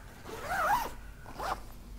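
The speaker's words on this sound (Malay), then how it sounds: "dan kita zip je lah" A zipper closes on a storage bag packed with a large folded camping tent. The zip runs in two close, rasping pulls with a brief pause between them and no talking.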